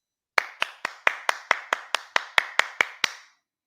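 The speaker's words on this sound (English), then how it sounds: "Hand clap for Byland Times." Thirteen crisp, close hand claps from a single person on a talk show, struck at an even, brisk rhythm and then stopping, with silence around them.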